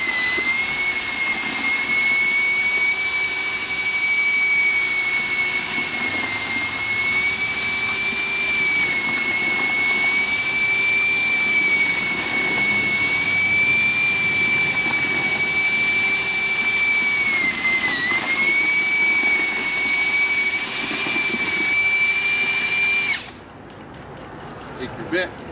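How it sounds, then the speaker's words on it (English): Electric drill with a mixing paddle churning an 80-pound bag of concrete in a 5-gallon bucket, a loud steady high-pitched motor whine holding for over twenty seconds, then cutting off abruptly near the end. "Bring your drill up and down inside of there."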